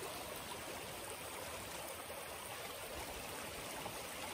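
Steady broadband rush of a creek running continuously nearby at Tenquille Lake, with no voices and an even, unchanging level throughout.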